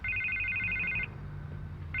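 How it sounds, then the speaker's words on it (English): A telephone rings in Telltale's Batman video game: a steady electronic warble for about a second, then a pause before the ring starts again, fairly quiet over a low background hum. "I can't get the phone to stop ringing."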